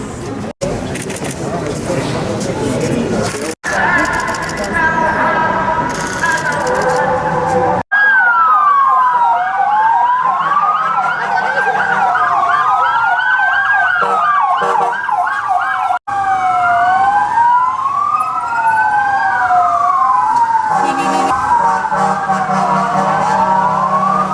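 Fire engine sirens, several wailing at once in overlapping sweeping tones, loud and close, taking over after a stretch of talk and mixed street noise, with a couple of abrupt cuts.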